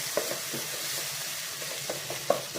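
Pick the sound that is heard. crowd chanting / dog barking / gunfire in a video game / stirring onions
stirring onions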